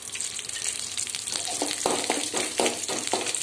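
Oil sizzles and crackles steadily as urad dal fries in a pan for tempering, with sharper spitting bursts near the end and no voices.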